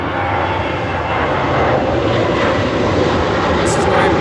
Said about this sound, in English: That's a Ryanair flight taking off there.